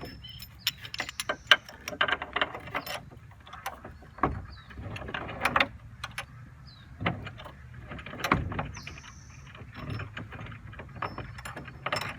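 Bolts are fitted to a floating dock, giving scattered metallic clicks, clinks and ratcheting taps at irregular intervals, close by and moderately loud, with quieter gaps between bursts of handling.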